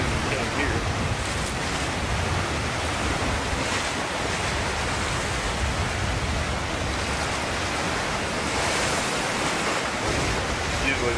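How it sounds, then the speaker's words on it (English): Ocean waves break on the shore near pillars, a broad continuous surf wash mixed with wind buffeting the microphone, loud and steady with slight swells. "Usually the waves are breaking all the way over these pillars."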